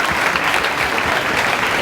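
A school congregation at a high school in Uganda applauds during a religious celebration, producing continuous, loud, bright clapping from many hands with no break.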